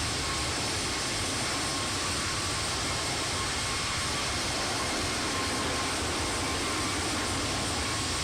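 Toliss Airbus A320neo engines in X-Plane 12 give off a loud, constant rushing drone with a thin steady tone riding above it, with no pauses and no voices.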